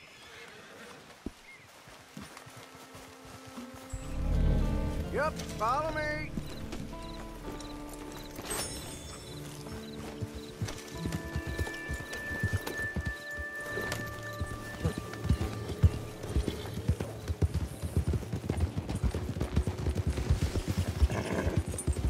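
Hooves clip-clop in a steady trot as riders set off on horseback in Red Dead Redemption 2, with a whinny, saddle jingles and game music layered over the hoofbeats, plus a brief spoken line.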